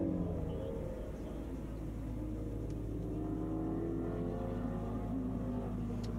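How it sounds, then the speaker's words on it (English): A 2017 Chevy Volt drives on a race track at a track day, heard from inside with windows open as a steady low rumble and road roar with a faint rising hum. "I'm driving a sweet Chevy Volt."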